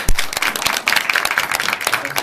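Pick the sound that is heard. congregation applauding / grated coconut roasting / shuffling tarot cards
congregation applauding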